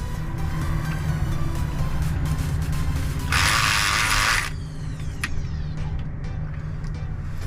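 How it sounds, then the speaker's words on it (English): An HPC TNT-15 electronic pick gun works a lock cylinder with a continuous loud mechanical buzzing rattle, rising to a harsher burst for about a second before settling back down. "This time I'll use an electronic pick gun, see if it works that way."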